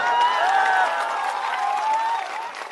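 Dense crowd applause fills a political rally in Paliganj, Bihar, loud and sustained for the whole stretch, with cheering voices mixed into the clapping.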